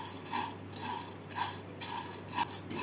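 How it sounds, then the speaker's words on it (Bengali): Sago pearls stirred in a frying pan with a utensil, a few soft rhythmic scrapes and clinks roughly every half second over a faint steady hum, quiet and close. "সাবুদানাগুলোকে একটা ফ্রাই প্যানের মধ্যে নিয়ে 2 মিনিট ভেজে নেব।"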